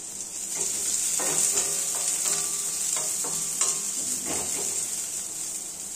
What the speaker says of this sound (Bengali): লঙ্কা ও রসুন কুচি একটু সুন্দর করে নাড়াচাড়া করে নেব।